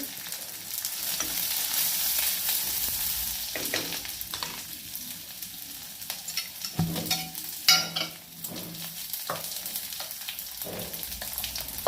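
Tamarind stirred in with sautéed onions fries in a pan for chutney, a steady broadband sizzle with scraping stir strokes and a few louder clatters, close by and without talk.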